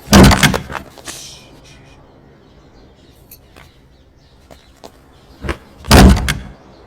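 A door in a comedy film scene gives loud bangs, one burst at the start and another near the end, with faint chirps and small knocks in the quiet gap between.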